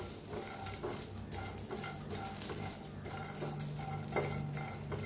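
Green chili, garlic and ginger dry-roasting in a pan, faint sizzling with frequent stirring scrapes and light clinks of a utensil against the pan, quiet and close.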